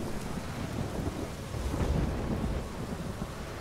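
Stormy weather in the game Ori and the Will of the Wisps, with lightning: a steady low rumble of thunder and rain that swells slightly midway, no voices.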